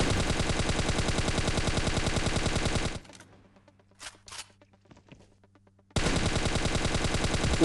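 Automatic gunfire sprays in the mobile shooter game Scarfall 2.0, with a loud, rapid continuous burst, then a quieter gap with scattered game sounds, then another sustained burst.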